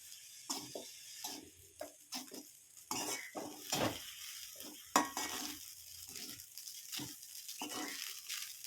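A spoon stirs onion rice with coriander leaves in a pan, producing a series of distinct scraping and clinking strokes in an irregular rhythm over a faint, soft sizzle, with no talking.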